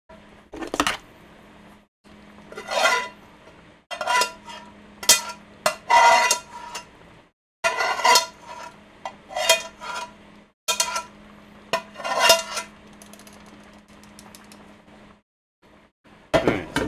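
Cooked meat being spread around a pan with a utensil, producing sharp intermittent scrapes and metallic clinks in short bursts, close up, with a faint low hum underneath.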